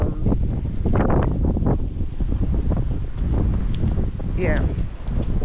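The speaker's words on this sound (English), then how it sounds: "It's just windy." Gusty winter wind at about 30 to 32 degrees beside water near a house deck, a low rumbling buffet of wind noise on the microphone throughout, with a faint chirp near the end.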